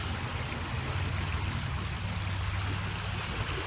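Water pours from a drainage tube into a creek, making a steady, dense rushing and trickling wash with no pauses and a low rumble beneath, close and fairly loud.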